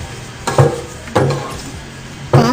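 Salt being stirred into jeera rice in a pot, heard as three separate scraping, clattering bursts of a utensil against the pot, with quiet gaps between them and no talking.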